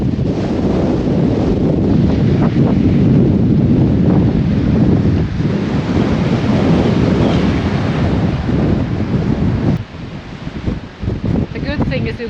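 Strong wind roars and buffets the microphone at Denmark's northern tip where two seas meet, loud and continuous, with a voice speaking under the gusts before it briefly eases near the end.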